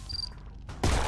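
A C4 charge detonates in the VR zombie shooter Undead Development, a sudden loud low boom that cuts in after a quieter stretch and rumbles on to the end.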